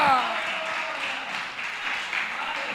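A church congregation applauds in a continuous, dense patter of many hands, steady and moderately loud for a few seconds, with a voice briefly audible at the start.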